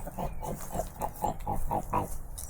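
A pig in a campsite in Cherokee National Forest gives a run of about eight short grunting oinks in steady succession, fairly close but moderate in level, over faint background noise.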